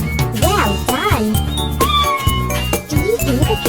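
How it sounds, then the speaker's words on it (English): Cartoon cat meowing in the Robocar City video game, several rising and falling mewing cries over busy game music and chimes, loud and close. "Do you hear the cat?"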